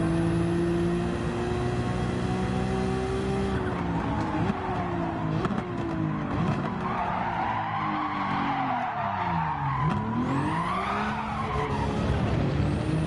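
In a racing video game, a car slides with a long, loud tire squeal under the e-brake while the engine pitch drops and climbs through repeated revs, continuous and close with no pauses.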